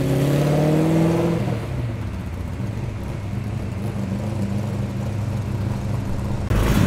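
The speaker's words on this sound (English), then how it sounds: "There goes the XY Fairmont. Sounding sick." A Ford XY Fairmont muscle car pulls away from a big car meet in Tempe. Its engine revs hard at first, then settles into a steady, loud, throaty rumble that holds near the listener.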